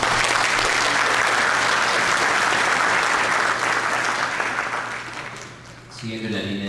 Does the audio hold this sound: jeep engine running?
no